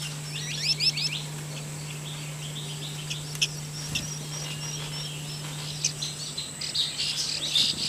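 White-eye laughingthrush chicks at the nest give scattered high, thin chirps in short bursts, with a few louder calls near and far over a steady low hum and faint insect-like background.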